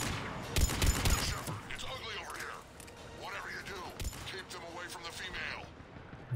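Gunfire in the video game Mass Effect 3, scattered close shots and bursts mixed with sci-fi whooshing effects and a voice talking over the game.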